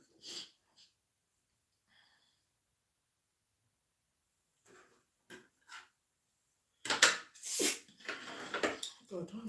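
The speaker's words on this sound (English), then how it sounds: "God, why am I sneezing?" A person sneezes a few times in a quiet room during a home sewing session. The first sneezes are faint and isolated, followed by a louder, breathy burst with sniffs and wheezy exhales near the end.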